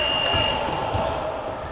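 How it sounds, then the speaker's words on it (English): A fire alarm blares steadily through a basketball gym during a game, a sustained high tone over the crowd noise and commentary talk. "That was essentially a fire alarm."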